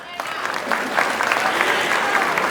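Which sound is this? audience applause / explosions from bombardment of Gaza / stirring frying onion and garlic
audience applause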